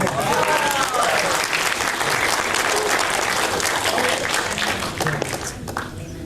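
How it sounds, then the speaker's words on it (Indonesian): A hall audience at a literature talk gives a full, loud burst of applause after a poem recitation, dense clapping throughout that eases off near the end, with some crowd murmur underneath. "Tepuk tangan."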